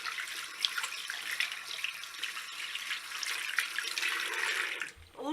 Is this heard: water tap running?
yes